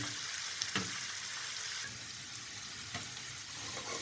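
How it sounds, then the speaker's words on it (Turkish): Onions and mushrooms sauté in a pan for a mushroom soup, giving a steady, close, even sizzle with a couple of soft clinks of a utensil against the pan. "Bu burada soğanımızla mantarımız şu şekilde kavruluyor."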